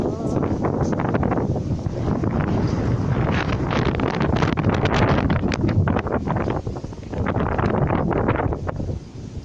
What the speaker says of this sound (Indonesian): Hujan angin lebat guys.